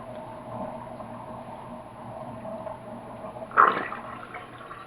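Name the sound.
water draining from a bowl of washed greens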